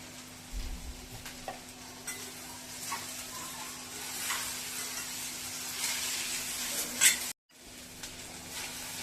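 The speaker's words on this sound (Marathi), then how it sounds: "अशी परतून मध्य आचेवर परतून आपल्याला भाजी ती शिजवायची." Okra and tomato sautéing over medium heat in a home kitchen, a steady soft sizzle with occasional stirring scrapes, one brief sharp clink, then a short dropout before the frying resumes; no talk.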